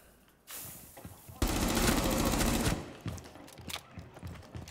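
MP5 fire in Rainbow Six Siege, a close, loud sustained burst of rapid automatic shots lasting over a second, preceded by a short shot or noise and followed by scattered clicks and softer game sounds.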